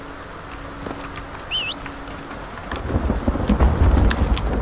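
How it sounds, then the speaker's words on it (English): Thunder with heavy reverb in Red Dead Redemption, a low rolling rumble that swells near the end over a bed of steady rain. "oh, the thunder sound's quite nice in this game,"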